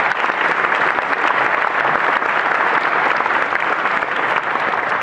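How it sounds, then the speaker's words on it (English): A graduation audience in Sweden claps for the administration team, a steady, dense wash of applause from a whole class that holds evenly for several seconds with no talking over it. "so applause for them as well, please."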